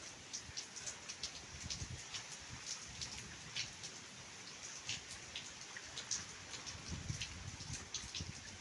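Rain falling steadily, with soft patter and scattered sharper drops striking a surface, fairly quiet and uninterrupted by speech.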